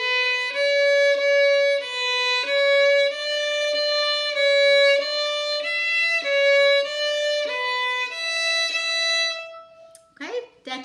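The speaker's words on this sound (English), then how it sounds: "So détaché sounds like this." A bowed string instrument plays détaché strokes: a series of smooth, evenly separated notes at a steady pace, each stroke distinct, ending with a brief burst of noise.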